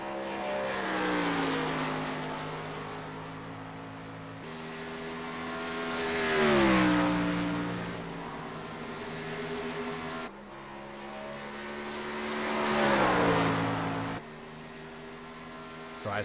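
Race cars roar around the track in a broadcast of a late-race stage, engines droning with rising and falling pitch as cars pass in two loud sweeps, continuous throughout.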